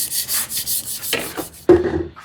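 Freehand honing of the bevel on a vintage hand plane blade, a steady rhythmic rubbing and scraping of steel on an abrasive stone, repeated strokes close up, then a sharper clack and a brief shift in tone near the end.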